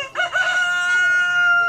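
A proud farm rooster crows once in a long, clear cock-a-doodle-doo, close and loud, its steady high tone held to the end with no talk around it.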